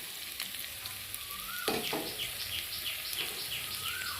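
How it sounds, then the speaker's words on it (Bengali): Potato and onion frying in a pan for a small fish curry, with a steady close sizzle and a few brief stirring scrapes, and no voices. "আলু আর পেঁয়াজটা সুন্দরভাবে ভাজা ভাজা হয়ে গেছে"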